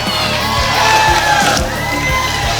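A wrestling crowd at a Red Bluff event cheers and whoops loudly and continuously, shouts and yells rising over a dense roar of the audience.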